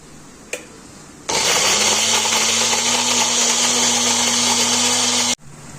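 A kitchen mixer grinder blending two medium tomatoes and a green chilli into paste: a brief tap, then a loud, steady high-pitched whirring motor for about four seconds before it cuts off abruptly.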